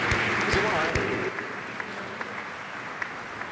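Strong applause for the president at a CEAL conference held at the OAS, loud dense clapping at first that thins and fades to scattered claps over a few seconds.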